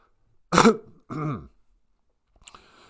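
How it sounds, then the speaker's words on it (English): A man gives two sharp coughs close to the mic, the second slightly weaker, followed by a faint rustle; no talking. "I just coughed."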